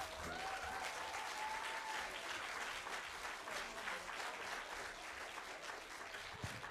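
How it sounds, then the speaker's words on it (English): Audience applause for a Grade 4 class theatre and dance performance, steady dense clapping filling the hall throughout, with a brief tonal whoop or voice early on. "Let's give them another big round of applause."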